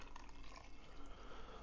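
Beef broth pours in a steady liquid stream into a crockpot, a continuous splashing trickle close by with no talking.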